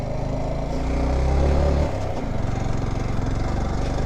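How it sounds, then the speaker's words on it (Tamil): A heavily loaded motorcycle climbs a hill road toward Kolli Hills, its engine running after no oil change. The drone is loud and steady, rises in pitch and labors, then drops back as the gears change. "இன்ஜின் செம்மையாக ஒர்க் ஆகும்."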